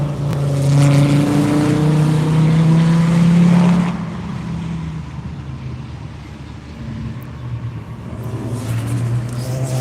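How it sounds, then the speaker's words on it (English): A Porsche race car accelerates on the VIR track during a One Lap of America session, a loud, rising engine drone for about four seconds that then falls away into quieter, more distant engine noise. "Ray Guerrero and his Porsche are taking off."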